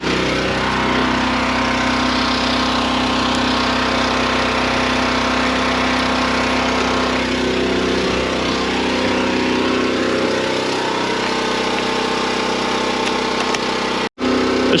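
A John Deere 9RX quad track tractor, towing a ripper, idles with a loud, steady engine rumble and drone that holds constant throughout, with a brief dropout near the end and no talking.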